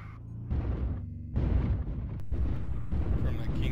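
Gauss rifle firing in MechWarrior Online on an alpine map, heavy booming discharges landing in separate bursts over a rumbling low battlefield bed, with faint talk beneath.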